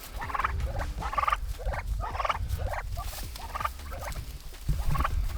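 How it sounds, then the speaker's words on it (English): Soft, repeated peeping chirps from baby turkeys, coming in quick bursts over a low, steady rumble of background noise. "So yeah, these are baby turkeys."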